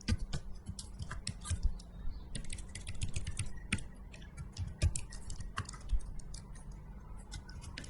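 Fingers type an email address on a computer keyboard, a close, quick, irregular run of light key clicks and taps continuing throughout with no talk.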